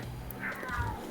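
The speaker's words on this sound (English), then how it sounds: "Argos, why are you meowing?" A cat gives a single drawn-out meow over constant background noise during a tabletop roleplay session.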